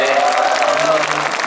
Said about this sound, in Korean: 정말 여러분 박수 부탁드리겠습니다